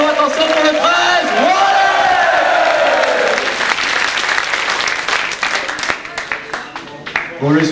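A big crowd at a 2004 HEI student integration event applauds loudly and steadily, mixed with cheering and shouts, the clapping thinning out toward the end.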